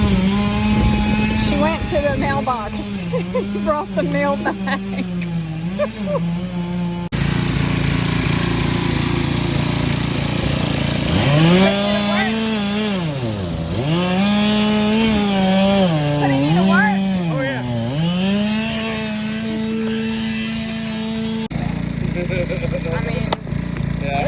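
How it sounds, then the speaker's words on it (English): A chainsaw cuts wood on a farm, its engine revving up and down in a loud, steady drone across the whole stretch, while a person talks over it. "I hear a chainsaw."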